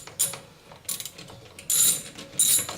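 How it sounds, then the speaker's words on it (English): Nuts, bolts and screws rattle and clink inside a peanut butter jar in several short shaken bursts, close and metallic, with quiet gaps between them. "It's full of nuts and bolts and screws and bits and pieces that I've collected over the years."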